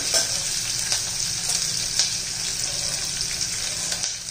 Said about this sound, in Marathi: त्याला हलवला की एकदम सुट्टा सुट्टा होतो। चांगला खूप परतून घ्यायचे।